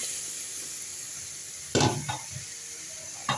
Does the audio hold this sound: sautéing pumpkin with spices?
yes